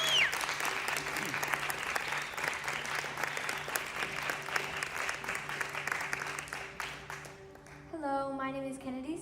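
An audience claps continuously as a student speaker is welcomed onto the stage at a church gathering, dense sustained applause fading near the end as a voice begins.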